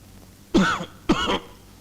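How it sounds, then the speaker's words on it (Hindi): A person coughs twice, close and distinct, each short harsh burst separated by a brief pause against a quiet indoor background. "खांसी हो गई है।"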